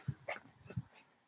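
A dog makes soft, faint whimpers and short yips in a garden camp-out setting, a few brief sounds spread across a quiet moment.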